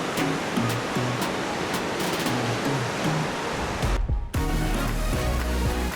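Sea surf washing against the shore behind a temple at Khao Tao, Hua Hin, a steady rushing roar that fills the whole stretch, with a brief dip near the end before the wash surges back.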